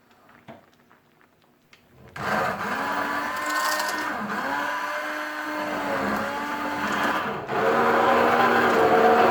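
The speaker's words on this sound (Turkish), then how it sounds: "Şimdi altını kapatalım ve blenderdan geçirelim." A blender motor starts after a quiet moment and runs steadily at high speed, pureeing boiled tangerine peels for marmalade, its pitch dipping and rising as the thick contents churn, loud and close.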